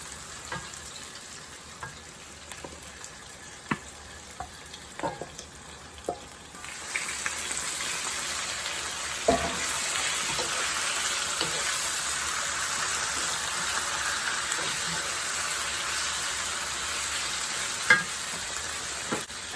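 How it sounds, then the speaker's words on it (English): Beef sizzling and frying with onions in a pan for Taiwanese beef noodle soup, a steady loud sizzle that starts after a few light clinks and stirring taps and continues throughout, with occasional utensil knocks. "Alright, now I'm going to add the beef."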